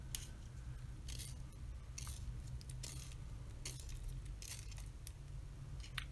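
A manual sharpener grinds a hardish Koh-i-noor Hardtmuth pencil, giving faint, repeated crisp scraping bursts in a steady rhythm over a low background hum.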